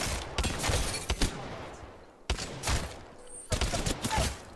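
Bursts of gunfire in the shooter game Apex Legends, several volleys of rapid shots separated by brief pauses, loud and close with game noise between them.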